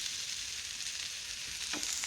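Potatoes for aloo bhaji fry in a pan with a constant, dense hiss of oil that stays even throughout, faint in level and free of speech, with a few soft bubbling pops near the end.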